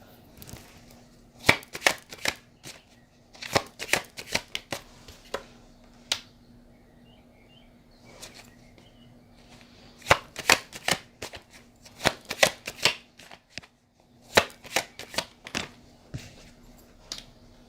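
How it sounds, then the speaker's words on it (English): Tarot cards are shuffled and pulled by hand, crisp riffling and slapping in repeated bursts separated by quiet gaps, close and fairly loud with a faint steady hum beneath and no speech. "Let me pull that card."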